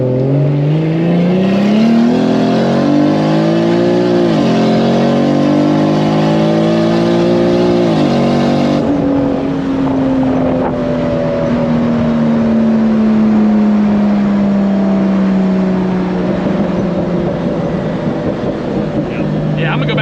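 A 2JZ-swapped BMW E30 with a DCT gearbox revving and pulling hard, its engine tone rising in pitch, then dropping with a gear change and settling into a long, loud, steady drone with a crackly exhaust.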